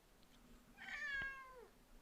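A single drawn-out meow from a pet cat, rising and then falling over about a second, heard close and fairly soft against a quiet room.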